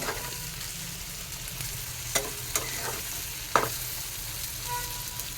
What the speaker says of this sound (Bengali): চিকেন মশলাটাকে ভালো করে মিক্স করে দিচ্ছি।